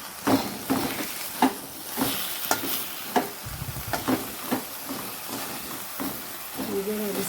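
Green chillies and tomato frying in a pan for a drumstick-leaf stir-fry, stirred with a spoon: an even sizzle broken by repeated scraping strokes in an uneven rhythm, close and fairly loud.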